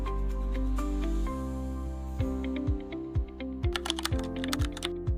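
Keys clatter on a computer keyboard as a cancellation reason is entered, a quick run of close, dry taps that thickens into a denser burst toward the end over a steady background tone.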